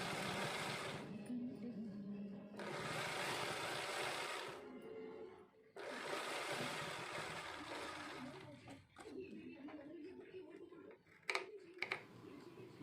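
An electric sewing machine runs a top stitch along a double-folded strip of blouse cloth in several bursts of a few seconds each, separated by short pauses, with handling rustles and clicks near the end.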